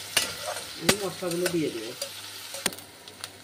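Onions frying in oil in a kadai, a steady sizzle with a few sharp utensil scrapes and clicks, while someone speaks over it.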